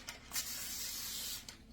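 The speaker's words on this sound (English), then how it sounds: "I'm going to do a light spray" Light cooking spray misted onto a parchment-lined jelly roll pan: a few short, soft hissing bursts, close and fairly quiet, with no talking.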